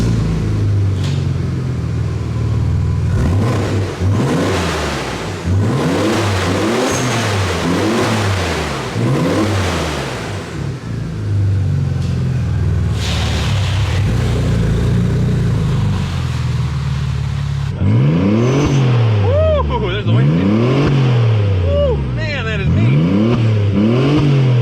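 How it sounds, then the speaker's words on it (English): Audi Allroad twin-turbo V6 running with no exhaust fitted, giving repeated loud rising and falling revs in bursts, close and raw, with a brief lull midway before more sharp revving sweeps. "So you can imagine this thing without any exhaust on it, and being a twin turbo V6, it has an interesting sound."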